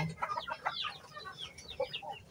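Crossbred Jersey Giant and Rhode Island chickens cluck and chatter in a farmyard, a run of short, fairly faint calls close together.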